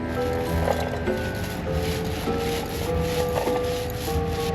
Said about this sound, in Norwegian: I dag så skal jeg prøve å få pusset alt det blanke på båten.